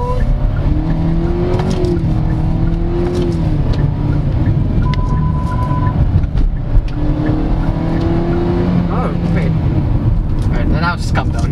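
The naturally aspirated engine of a 2023 Hyundai Stargazer GLS Premium IVT MPV revs hard in sport mode, rising and falling in pitch with continuous drivetrain drone and road noise from inside the cabin.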